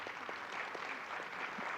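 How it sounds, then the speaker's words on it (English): Conference audience clapping for a panel, a soft, moderately distant patter of applause sustained evenly through the short stretch. "let's give them a round of applause."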